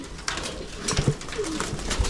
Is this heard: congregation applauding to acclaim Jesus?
no